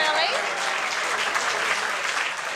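A studio audience at a rock music quiz show applauds steadily, a dense, even wash of clapping that holds at the same level throughout.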